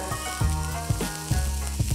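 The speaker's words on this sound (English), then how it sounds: "onions in, give them a good fry through." Hot oil sizzles steadily as onions fry in a wok, with a few soft knocks of a spatula stirring the pan.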